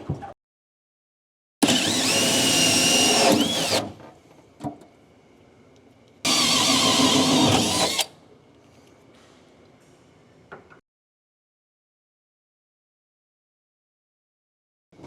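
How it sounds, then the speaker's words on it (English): Hole saw bit on a drill cutting through the back of plastic truck bed plugs, two loud bursts of grinding, whirring cutting about two seconds each, separated by quiet gaps with faint knocks. "I use a 1 3/4 hole saw bit to go drill through the back of the plastic bed plugs"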